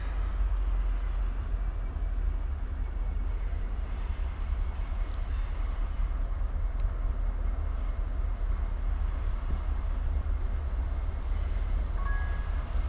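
An eastbound Norfolk Southern freight train rolls along railroad tracks with a steady, continuous low rumble and broad wheel noise, constant in level and fairly distant, with faint tonal squeals near the end.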